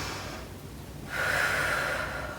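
Deep, slow breathing in a yoga pose, a soft quiet inhale followed by a louder, fuller breath drawn close to the mic.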